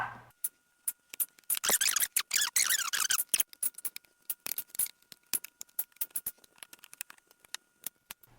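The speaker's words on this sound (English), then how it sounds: "So we got to open up this cover." A plastic engine bay cover on a Volvo XC70 is worked loose with a rapid, uneven string of sharp clicks, squeaks and rattles, close by and fairly quiet, with a denser scraping flurry early on.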